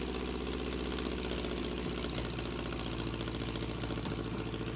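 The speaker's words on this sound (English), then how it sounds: "Next up is the video of the engine running on a test stand." A restored 1924/1928 Excelsior Henderson motorcycle engine fitted with a Marvel Schebler carburetor runs steadily on a test stand, giving a continuous, even mechanical idle with a rhythmic knocking pulse and no talk over it.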